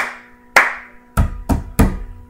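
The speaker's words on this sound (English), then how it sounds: "you're going to clap 2 times. So, and then you're going to hit the table 3 times with right, left, right" Two sharp hand claps followed by three quick palm slaps on a table, right, left, right, in a cup song rhythm, loud and close with no voices.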